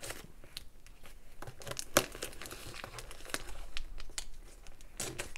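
Scissors cutting through plastic garbage-bag-style wrapping with thick tape while a parcel is unboxed, giving steady close crinkling and rustling with one sharp snip near the middle and scattered tearing crackles.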